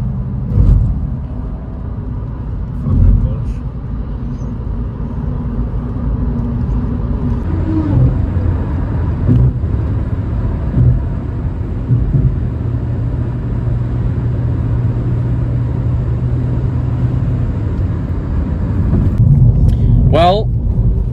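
Inside a moving Mazda on a road in Bahrain, a steady low engine and road rumble continues throughout, with occasional bumps and a sharper sound near the end.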